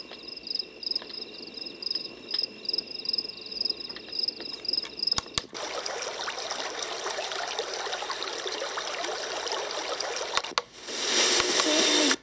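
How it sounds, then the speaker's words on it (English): Faint running water and cricket sounds played from a sunrise alarm clock, chirping insects and a soft trickle, steady and quiet, no voices. "This is running water,"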